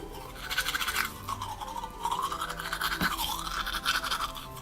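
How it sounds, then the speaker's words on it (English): A toothbrush scrubs a metal calligraphy pen nib in steady brisk strokes, a close, continuous bristly scratching with slight pauses and shifts in rhythm, no voices. "So a toothbrush is the answer."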